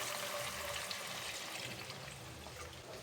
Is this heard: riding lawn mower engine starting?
no